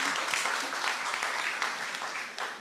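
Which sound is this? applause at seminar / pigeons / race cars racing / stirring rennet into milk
applause at seminar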